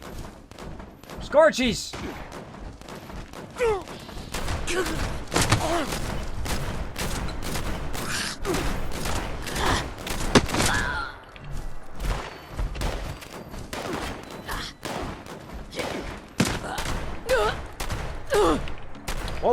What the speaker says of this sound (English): Oh, we're shooting at something.